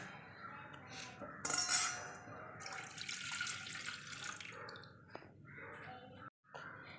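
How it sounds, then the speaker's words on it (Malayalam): Thick coconut milk, made from a medium coconut and half a glass of water, is poured into a vessel for vattayappam, with kitchen clinks and a running, splashy liquid sound close by. No one speaks. "നല്ല കട്ടിയായിട്ടുള്ള തേങ്ങാപ്പാലാണ് വേണ്ടുന്നത് ഞാനൊരു മീഡിയം സൈസ് തേങ്ങയ്ക്കകത്ത് അര ഗ്ലാസ് വെള്ളം ഒഴിച്ച് തേങ്ങാപ്പാൽ തയ്യാറാക്കി വെച്ചിട്ടുണ്ട് അത് നമുക്കൊരു പാത്രത്തിലോട്ട് ഒഴിച്ചു കൊടുക്കാം"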